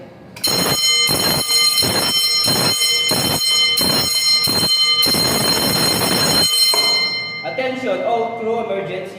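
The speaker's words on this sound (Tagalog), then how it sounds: "sound the general alarm and notify the crew" A ship's general alarm sounds during an emergency steering failure, ringing in about eight loud, evenly spaced blasts that then stop, leaving a brief murmur of other sound.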